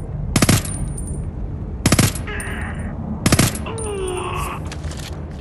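In Homefront: The Revolution on PS5, three short, loud bursts of automatic gunfire crack out about a second and a half apart, with quieter game ambience and faint effects in between.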